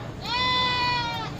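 Goats at a Lahore livestock market give one loud, drawn-out bleat lasting about a second, close to the listener, with faint market background around it.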